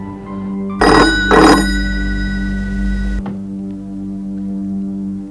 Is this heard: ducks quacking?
no